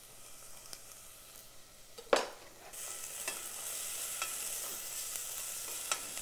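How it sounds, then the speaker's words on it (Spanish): Chopped garlic hits a hot frying pan with a sharp burst, then settles into a steady, even sizzle that holds to the end. "el ajo en el sartén."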